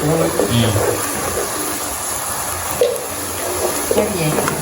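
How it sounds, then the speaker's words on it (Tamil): Water is poured into a cooking pot while squid biryani is prepared at home, a steady splashing trickle that runs on throughout, with someone talking faintly underneath. "இனி அளவாக தண்ணி விடுவோம்"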